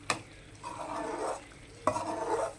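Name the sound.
stirring prawn thokku masala in a pan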